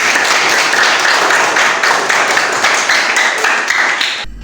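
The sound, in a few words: group rain-style clapping, tepuk tangan hujan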